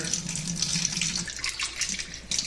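Running tap water rinsing a freshly shucked oyster held under the stream, a close, continuous splashing flow with no speech.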